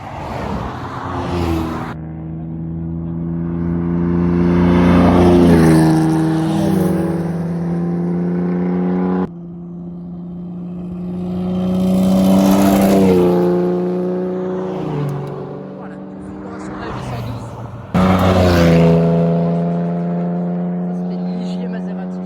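A Matra MS650 twelve-cylinder race car at the Tour Auto 2025 in Côte-d'Or roars past three times in succession, each loud, high-pitched engine howl rising and falling as it approaches and recedes.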